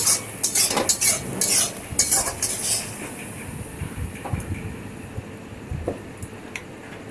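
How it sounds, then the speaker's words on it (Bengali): A spoon stirs vegetable curry in a pan, scraping and clinking against the metal in a quick cluster at first, then easing into a quieter low sizzle with occasional taps. "এটা ভালো করে একটু কষিয়ে নিয়ে তারপরে আমি জল দিয়ে দেবো।"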